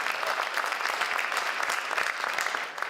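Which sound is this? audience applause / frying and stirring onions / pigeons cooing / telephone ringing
audience applause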